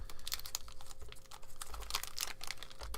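A trading card pack from Genesis Battle of Champions being cut open with a knife, close crinkling and tearing of foil wrapper with rapid small rustles and scrapes, no talking.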